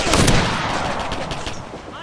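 Rifle fire in Operation Flashpoint: Red River, a military video game: a rapid cluster of sharp, loud shots up front, then further reports and echoing battlefield noise that fade toward the end.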